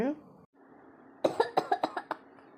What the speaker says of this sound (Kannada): ಕೆಮ್ಮು ಬಹಳ ಬತ್ತೈತಿ ಕಾಣು